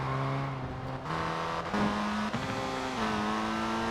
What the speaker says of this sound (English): Once again, downshifted too much.